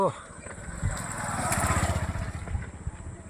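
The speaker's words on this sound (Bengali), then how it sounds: "এইটা আমার বাইক" A motorcycle engine idling and revving briefly, a steady close putter rising and falling over a few seconds.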